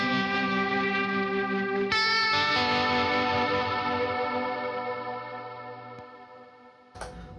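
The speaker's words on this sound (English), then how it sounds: "I'm using some tremolo with the vibrato and reverb." Electric guitar with tremolo, vibrato and reverb: a ringing chord swells and slowly fades with a washy tail, a fresh strum arrives about two seconds in, and another returns near the end.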